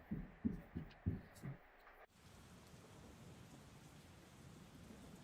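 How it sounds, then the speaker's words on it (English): Rain falling outside at night in the video game Persona 4 Golden. A few soft, rhythmic low thumps come first, then a steady, even hiss of rain continues on its own. "You can hear it raining outside."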